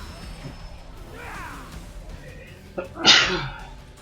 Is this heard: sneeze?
yes